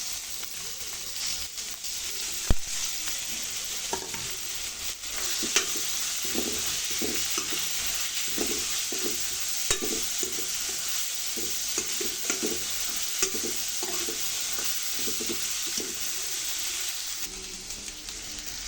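Carrots and other vegetables for biryani rice sizzle steadily in a pan while a spoon stirs them in repeated scraping strokes, close and moderately loud, with no talking.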